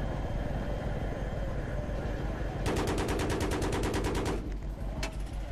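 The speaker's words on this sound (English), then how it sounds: "Reloading, firing again." Rapid automatic gunfire in Battlefield 3 during helicopter play: a steady loud rattle of shots lasts almost two seconds and is followed by a single later shot, all over a constant rotor-like drone.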